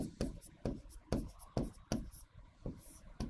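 Chalk or marker writing on a board in a history lesson, heard as a series of sharp, close, rhythmic strokes and taps at regular intervals, with faint quiet voice sounds between them.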